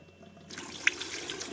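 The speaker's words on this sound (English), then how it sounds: "let's pour some water into the heat exchanger" Water pours and splashes into the heat exchanger of a Lochinvar Knight boiler during cleaning, a soft steady flow that swells after a quiet start, with a brief clink.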